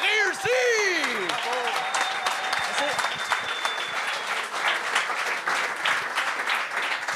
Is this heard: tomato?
no